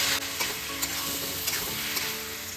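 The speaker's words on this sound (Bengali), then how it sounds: "এবার ভাজা আলুগুলো দিয়ে গ্যাস কমিয়ে কমিয়ে দশ মিনিট মতো কষিয়ে নেব" Fried potatoes sizzle in a pan over low heat, a steady frying hiss with a few soft stirring scrapes, no talking.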